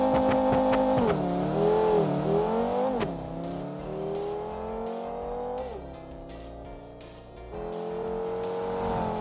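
A turbocharged Viper concept car engine revs hard: a loud, sharp, high-strung tone climbs and dips in sustained pulls with no one talking.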